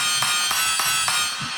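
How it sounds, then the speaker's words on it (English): A hammer strikes metal at a forge in a sampled, ringing ping, repeated about four times at an even pace over a steady, dense bed of electronic music. "It's using this sample I got from some dude hammering at the forge."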